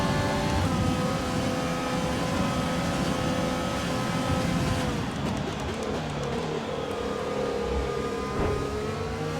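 Formula 1 cars racing at Zandvoort in the F1 2020 video game, a steady loud engine drone with shifting pitch as revs change, continuous throughout with no talk.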